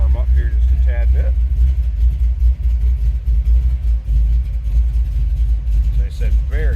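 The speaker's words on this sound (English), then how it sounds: "very healthy sounding car. Nice idle, a little load to it." A 1972 Chevrolet Chevelle Malibu idles steadily with a low, continuous engine rumble that carries a slight load, close by, while someone talks over it.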